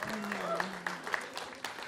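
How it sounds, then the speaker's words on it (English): Audience applause for W. Kamau Bell at a live songwriting show, brief clapping from a crowd heard under and around a talking voice, with a few sharper claps standing out. "Big round of applause for homie Kamau right here"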